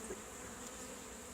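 Honey bees are buzzing around a queen cage in a hive, heard as a faint, continuous insect hum with no talking.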